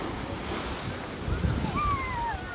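Sea waves wash in a steady roar, with a swell building toward the middle, under gusty wind buffeting the microphone and a faint thin whistle near the end.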